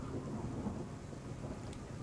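A spooky white noise machine plays a thunderstorm track, a faint, steady wash of rain with soft low rumbling, even and unbroken throughout.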